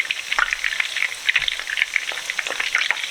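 Italian meatballs frying in a pan give a steady, close crackling sizzle with small pops and light stirring or turning noises, and no one speaks.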